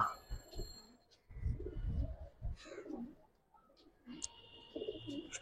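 A pair of Cobra breed pigeons coo softly in a loft, low throaty murmurs rising and falling, with faint chirps and background rustle nearby.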